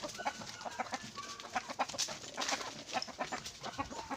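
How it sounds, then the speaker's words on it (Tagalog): Hens clucking repeatedly, a busy flock close by with overlapping short calls and no voices. "Ito yung mga inahin ko dito mga boss."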